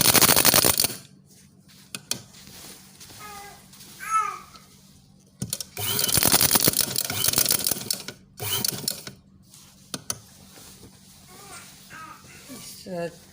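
A sewing machine runs in short rattling bursts as it stitches the folded hem of a fitted bedsheet. The bursts are separated by pauses in which someone talks nearby.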